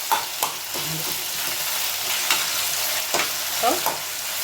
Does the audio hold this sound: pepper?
yes